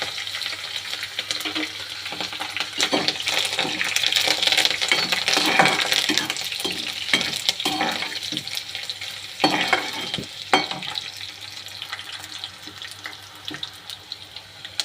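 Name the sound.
urad dal frying and being stirred in a pan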